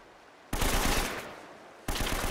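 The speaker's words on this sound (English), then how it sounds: "Someone else is shooting." Gunfire in the action game Uncharted: Drake's Fortune, two loud close bursts of rapid automatic shots, the first lasting over a second and tailing off before a second volley starts.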